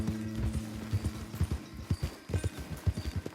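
In Red Dead Redemption 2, a horse gallops with a quick, rhythmic drumming of hoofbeats, close and steady, with a faint whinny-like undertone and no speech.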